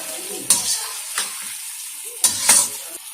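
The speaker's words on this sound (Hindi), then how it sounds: "चिकन को हम थोड़ी देर तक इसमें फ्राई कर लेंगे।" Chicken frying in masala in a pan for Lahori murgh cholay: a soft sizzle runs beneath a few sharp spatula scrapes and stirs, with two clusters of louder clatter close by.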